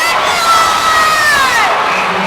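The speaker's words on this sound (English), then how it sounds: "I think the crowd was so stunned. It was like, ooh." Crowd at a women's college basketball quarterfinal game letting out a loud, sudden collective gasp and cheer of surprise, swelling and fading within a couple of seconds.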